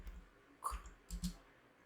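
Light clicks of typing on an ASUS Zenbook A14 laptop keyboard, a few quiet close keystrokes in two small bursts against a near-silent background.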